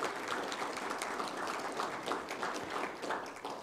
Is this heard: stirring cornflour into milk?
no